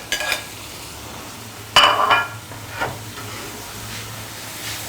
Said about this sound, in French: dans notre poêle, nous avons la tomate que nous allons laisser mijoter